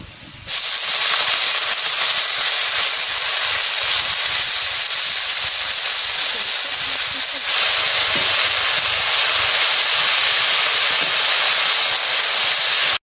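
Garlic and leafy greens hit a hot pan with a loud, steady hissing sizzle that starts abruptly and stays strong and close, with no voice over it.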